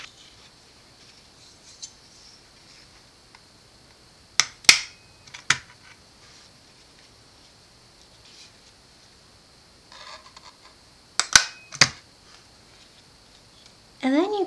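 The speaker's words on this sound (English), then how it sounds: "you can now hole punch your bookmarks where you'd like to tie ribbon." Two pairs of sharp clicks and snaps from a hole punch going through paper bookmarks, several seconds apart, stand out from a quiet room, followed by a brief rustle at the end.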